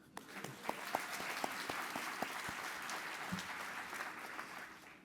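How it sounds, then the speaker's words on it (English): Graduates and guests applaud at a diploma ceremony in a hall, sustained clapping from a crowd with a few sharp, close individual claps standing out above the steady wash. "Give yourselves a round of applause."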